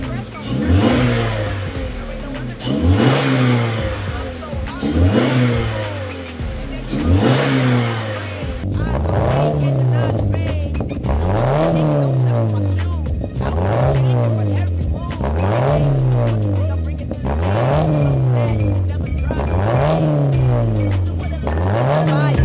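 Toyota GT86 exhaust revved in a steady series of rising blips, first with the stock system, then cat-deleted with a straight pipe, G-pipe mufflers and black tips, loud and close with a rasping tone.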